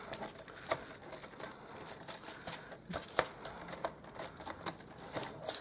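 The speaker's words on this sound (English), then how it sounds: "you can double over a piece of aluminium foil and you can just do that." A Stampin' Up! paper trimmer blade slicing through aluminium foil folded into several layers, giving a steady run of close, crisp crinkling and scratchy cutting strokes with no talk.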